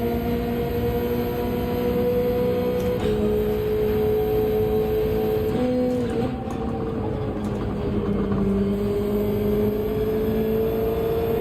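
A race car in Gran Turismo 7 drives the Willow Springs circuit, its engine a steady close drone that shifts pitch several times as it changes gear and accelerates.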